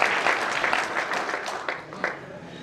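An audience at a poetry gathering at a fair claps steadily, a dense, lively patter of many hands that tapers off slightly toward the end.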